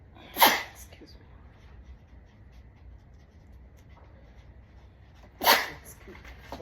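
Two sharp sneezes about five seconds apart, close and loud, in a quiet meeting room with faint background hum.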